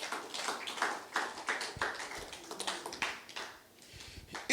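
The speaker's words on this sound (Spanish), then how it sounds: "tome su lugar dándole una ofrenda de palmas al Señor" A church congregation claps hands in worship, steady overlapping claps with a loose rhythm, fairly close and faint overall, briefly thinning out before picking up again.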